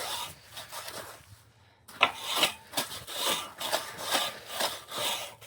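Debris is scraped off an animal's platform bed with a scraping tool, repeated rough rasping strokes up close, rhythmic after a brief pause, with no talking.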